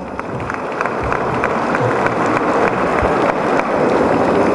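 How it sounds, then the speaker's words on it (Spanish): Dense applause from a crowd at a legislative report event for federal deputies, a steady patter of many hands clapping at close range. "Guadalupe Eguiluz, para quienes pido un fuerte aplauso."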